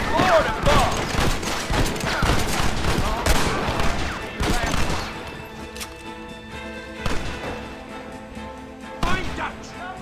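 Heavy gunfire in Red Dead Redemption: a dense, continuous fusillade of loud shots and crashes, with voices calling out over the chaotic battle.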